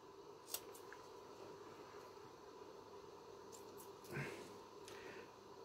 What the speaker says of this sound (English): And all I'm literally going to do is take a pair of scissors.